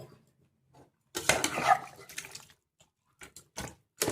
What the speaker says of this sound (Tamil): தண்ணி ஊற்றிடுவோம்.